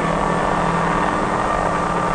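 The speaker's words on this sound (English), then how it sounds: "when the stick is moved in the direction the pilot wants to travel, the helicopter is on its way" A helicopter in flight: a steady, loud engine drone with a rhythmic rotor thrum continues unbroken, close and unchanging throughout.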